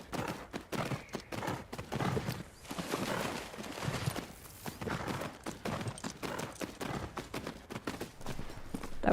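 Horse hooves clip-clopping with occasional neighs in the video game Tales of Rein Ravine, a busy, fairly steady run of hoofbeats layered with other game sounds and a brief whinny.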